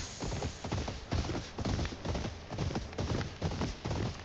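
Horse hooves clip-clopping in the video game Ghost of Yotei, a steady, close rhythm of hoofbeats.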